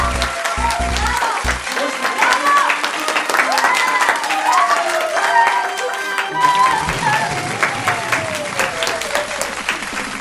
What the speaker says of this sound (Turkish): Alkış.